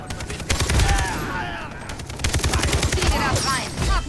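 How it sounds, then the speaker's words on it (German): Rapid bursts of gunfire in the video game Far Cry 3, loud repeated shots rattling in quick volleys while players talk over them. "Und was schießt hier hinter uns"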